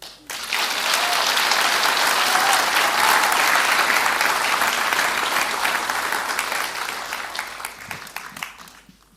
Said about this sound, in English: please another round of applause for the Duchess of Sussex